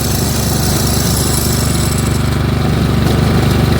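A Snapper riding mower runs close and loud with its belt engaged, a steady pulsing engine drone holding even throughout.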